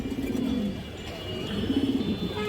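An Indian black high flyer hen pigeon coos in low, rolling phrases, two clear bursts of cooing near and moderately loud over steady background noise, with faint chirps.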